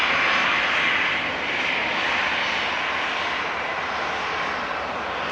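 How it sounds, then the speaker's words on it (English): A 16-year-old Boeing 737-800 departing Manchester Airport makes a powerful, sustained jet engine roar, loud and close, easing slightly after the first second and then holding steady without speech. "Flight 650, operated by a 16-year-old 737-800"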